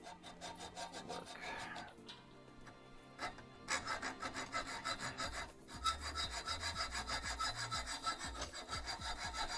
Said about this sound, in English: The hacksaw noise is making me shiver.